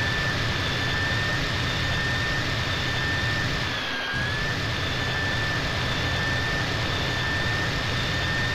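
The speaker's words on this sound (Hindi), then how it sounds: "लैंडिंग गियर खोल देता हूं।" A jet airliner in GTA San Andreas drones steadily with a high engine whine as its landing gear lowers, a brief dip and mechanical shift midway through the continuous loud roar.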